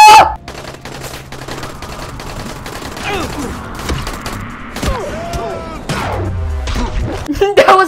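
Rapid bursts of automatic gunfire crackle through a firefight in the zombie survival game Dying Light, continuous volleys layered with splintering impacts and game effects, with a voice exclaiming now and then.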